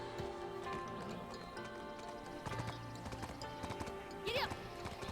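Horse hooves clip-clop in a steady rhythm during riding in the video game Black Desert, with a whinny rising near the end over ambient game sound.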